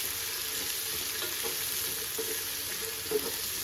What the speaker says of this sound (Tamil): வெங்காயம் நல்லா பொரிஞ்சு வரட்டும்